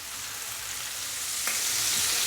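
Chicken pieces fry steadily over a medium flame for black pepper dry chicken, a dense continuous sizzle with a faint clink partway through, growing slightly louder toward the end.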